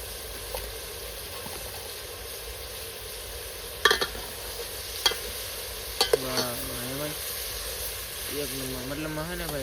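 Red chili and spices sizzle in a pan of shrimp curry as it is stirred, with a steady frying hiss throughout and a few sharp scraping clinks, while someone talks over it.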